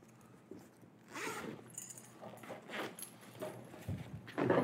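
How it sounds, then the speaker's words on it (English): A zipper on a Bulldog Winch heavy-duty rigging kit storage bag gets pulled in several short, close rasping strokes, with handling rustle between them and a louder pull at the end. "Turn this around so you can see that zipper a little bit better."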